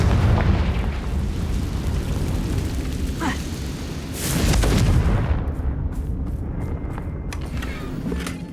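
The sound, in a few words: Confringo blast spell explosion in video game Hogwarts Legacy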